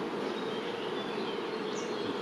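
Honey bees swarm over a hive frame with a dense, steady buzzing hum that stays even and close throughout.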